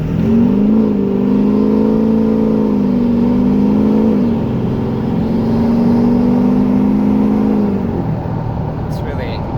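A Chevy Silverado 1500 Duramax diesel pickup accelerates from a stop toward 60, its engine droning loud and steady from inside the cab, pitch climbing through gear shifts.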